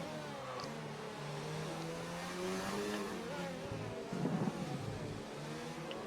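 An F1 race car in a Formula 1 video game at Barcelona screams steadily at high revs, its engine pitch rising and stepping through upshifts, with a brief burst of tire noise near the end; no voices are heard.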